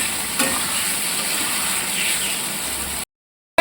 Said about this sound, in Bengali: আর দিয়ে দিচ্ছি টমেটো পেস্ট। আবারও ভালোভাবে কষিয়ে নিচ্ছি।